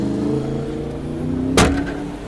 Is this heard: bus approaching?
yes